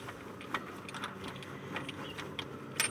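A ratchet tool tightens bolts on a Toyota Corolla 2E engine, giving faint, quick clicking and mechanical ticks, close by but quiet.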